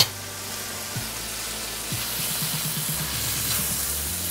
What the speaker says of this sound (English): I'm just gonna cook this flour just a little bit.